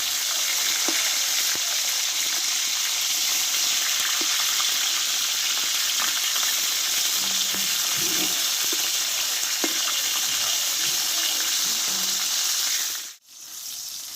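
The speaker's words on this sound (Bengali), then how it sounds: "করলাগুলো কিন্তু আমি দুই পিস ভালোভাবে ভেজে নিয়েছি" Bitter gourd pieces fry in oil with a loud, continuous close-up sizzle that holds steady for most of the clip, broken by a brief sharp dip near the end, with no talking.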